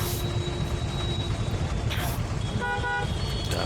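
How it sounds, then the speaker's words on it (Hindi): Short car horn toots sound amid rumbling road traffic at a traffic signal turning green in India, with a couple of brief honks near the end over the steady engine noise. "ग्रीन सिग्नल तो हो गया है, लोग हॉर्न में मारना चालू कर दिए हैं"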